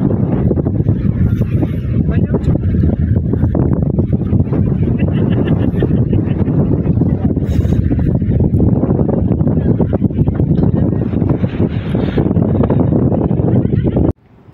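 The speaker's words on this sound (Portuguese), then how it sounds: "aqui aumentou bastante o vento." Strong wind buffets the microphone outdoors in Buenos Aires, a loud continuous low roar and rumble that lasts nearly the whole clip and then stops abruptly.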